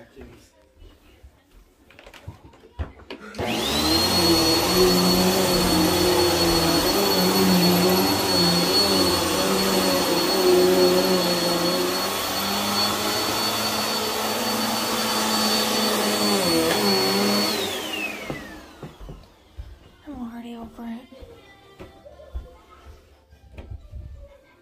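A vacuum cleaner runs on carpet, switching on with a loud steady roar and a high whine that holds for about fifteen seconds before winding down, while a person talks faintly nearby.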